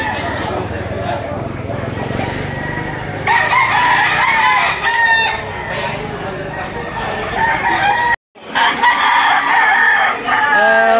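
Chickens and roosters crowing and clucking at the Lipa poultry auction market, with repeated crows rising over a busy, loud crowd and constant talk.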